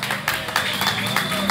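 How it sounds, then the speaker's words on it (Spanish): A crowd applauds at an Indomables club second-anniversary gathering, a steady dense patter of clapping hands with shouting voices mixed in throughout. "les pido un aplauso"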